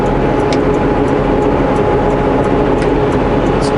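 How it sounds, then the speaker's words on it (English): Wet slush sprays against the side of a truck driving a slushy road after the first snowfall. Brief spattering hits sound over a loud, constant rumble of road and engine noise, with no talking. "You can hear all the slush hitting the side of our truck."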